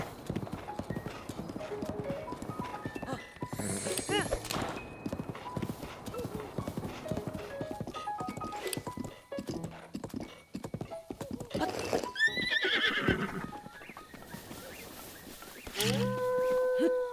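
Horse in Zelda Breath of the Wild galloping with rhythmic clip-clop hoofbeats throughout, punctuated by several whinnies, with game music faintly underneath.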